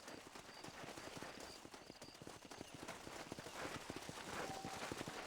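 Horse hooves clip-clop steadily in Red Dead Redemption, a quick, regular patter of close footfalls that runs unbroken through the whole stretch with a faint game ambience behind it.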